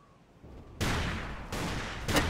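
Video game gunfire: a couple of sharp, loud broadband shots after a quiet start, spaced roughly a second apart, with a short burst near the end, no voices.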